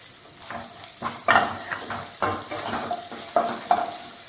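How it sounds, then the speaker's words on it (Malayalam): Sliced onion hitting a hot pan for a traditional Kerala ulli chammanthi, sizzling steadily with intermittent scraping stirs and spoon clinks, close and moderately loud. "പിന്നെ നമ്മളെടുത്ത് വെച്ച ഈ സവാള ഇട്ട് കൊടുക്കുക"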